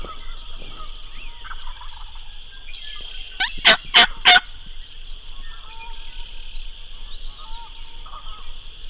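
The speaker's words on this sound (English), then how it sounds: "He has to be hearing it because he started gobbling." A wild turkey gobbles on Iowa public land during a spring hunt, one sharp rattling gobble burst at mid-distance over a steady high insect or bird drone, with no speech.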